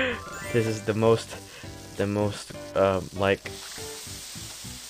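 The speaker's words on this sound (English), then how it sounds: "Now we just have to fry it." Food sizzles in a pan as it fries, a soft, steady hiss running underneath while a person talks over it, the sizzle coming through more clearly near the end.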